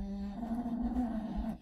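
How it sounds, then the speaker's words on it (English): A dog snores indoors in a low, steady, rumbling drone with faint rhythmic swells, close by and fairly quiet, with no talking. "I'm sorry that my dog is snoring."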